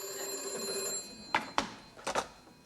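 Telephone bell ringing indoors in a sitcom scene, a few short bursts of ringing after a steady tonal background, moderately faint.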